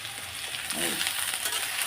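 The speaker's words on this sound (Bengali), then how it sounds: "আলু ভাজাটা আগে বসিয়ে দিই" Potato fritters crackle in hot oil in a pan, a continuous near hiss that swells slightly midway, with faint scraping as the pieces are turned; no voices.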